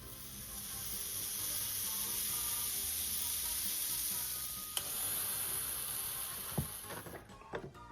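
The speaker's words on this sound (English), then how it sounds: "Add that batter to your waffle iron." Onion waffle batter with onion soup mix sizzles steadily in a hot waffle iron, a loud hissing fry throughout, with a few sharp clicks and clatters near the end.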